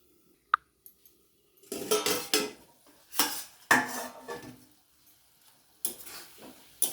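Metal cookware clanks as a lid goes onto a pot of vegetables simmering on a gas flame, a sharp early clink followed by several rattling knocks and shuffling scrapes in bursts, close and quiet, with no voices.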